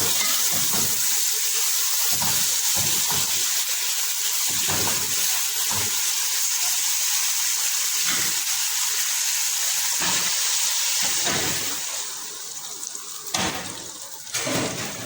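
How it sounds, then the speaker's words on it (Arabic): Meat frying in a pan with onions, a steady loud sizzle that runs throughout, with a few brief knocks and stirs, easing toward the end. "هشوحهم كده يا حبايبي شويه في البصل"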